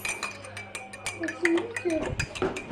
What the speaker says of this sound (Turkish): Şimdi karıştırıyoruz.